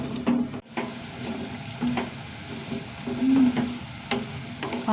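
Ridge gourd being sautéed in a pan gives a soft continuous sizzle, broken by repeated scraping and stirring strokes of a spoon against the pan at an irregular pace, with no one talking.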